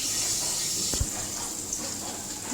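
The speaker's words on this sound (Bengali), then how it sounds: "বোতল আনলাম, এদিকে জল ভরবো, খাবার জল অল্প কয়েকটাই ভরবো" Drinking water runs from a tap into bottles as a steady, close hiss with a brief clunk of the bottle about a second in. No voices are heard over it.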